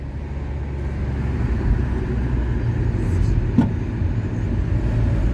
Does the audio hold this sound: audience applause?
no